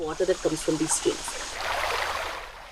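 A stream runs through swampy wetland forest in Karnataka; its steady, broad rushing swells up right after a short stretch of speech and continues evenly to the end.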